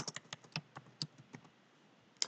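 Typing an API key on a computer keyboard: a close, irregular run of sharp key clicks with short pauses, ending in one louder tap.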